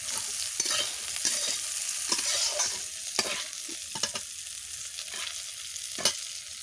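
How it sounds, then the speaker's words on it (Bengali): Bitter gourd and eggplant fry in oil in a pan under a steady hiss, with repeated scraping stirs and occasional sharper clinks, close by and with no voices. "জাস্ট উচ্ছে আর বেগুনটা ভেজে নিয়েছি"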